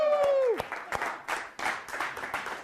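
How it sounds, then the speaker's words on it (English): A small live-show audience claps for Anthony after his trick, starting just after a brief voice and building in uneven bursts of close, scattered hand claps. "Give Anthony a big round of applause."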